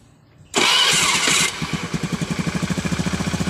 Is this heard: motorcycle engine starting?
yes